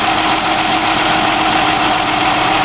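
A 2003 Ford Escape engine idles steadily with the number 5 ignition coil disconnected during a misfire check, a close, loud, continuous rumble with even vibration and no voices.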